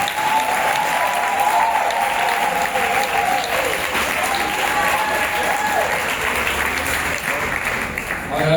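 A seminar audience claps to acclaim the Lord, a dense, sustained round of applause that stays steady and loud throughout, with a sung or spoken voice line faintly running underneath.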